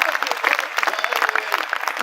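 Audience applause at a Hindi comedy poetry show (hasya kavi sammelan), a short, moderately loud burst of clapping from a crowd with a voice speaking over it.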